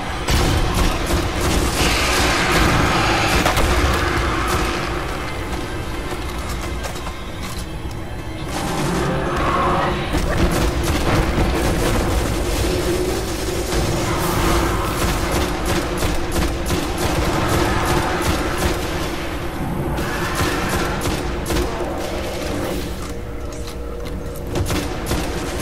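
Gunfire and combat from the video game Destiny, in a lunar mission stage, rattle on almost continuously with dense bursts of shots and impacts, loud and close.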